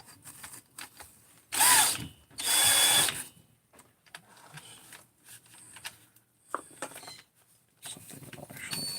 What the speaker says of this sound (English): Let me hit this with the Scotch-Brite.